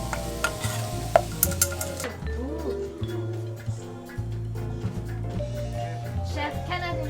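Sofrito with tomatoes frying and being stirred in a pan, with scraping and clinking of the utensil over a soft sizzle and background music.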